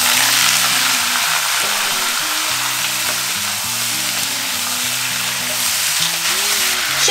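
Chicken stir-fries with scallion and ginger in a wok, giving a loud, steady sizzle that runs without a break under background music, with no voices.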